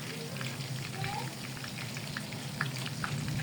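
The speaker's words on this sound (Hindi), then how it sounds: "आप उसके ऊपर से ऑयल डालते जाएं और बहुत अच्छे से ये फ्राई हो जाते हैं अंदर तक" Chatri kabab frying in oil in a wide pan, a steady close sizzle and crackle running throughout with no break.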